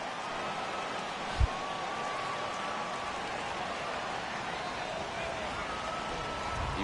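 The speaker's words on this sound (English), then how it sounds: "This has got to be the hardest rain we've seen all afternoon." Heavy rain falls in a baseball video game on PS4, a steady dense hiss that runs unbroken throughout with one brief low thump partway through.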